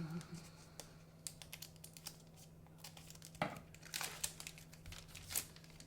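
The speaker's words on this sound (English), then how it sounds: "Rip it and cut it." Plastic wrapper of a Topps Heritage High Number baseball card pack being torn open, with faint scattered crinkling and tearing up close over a low steady hum.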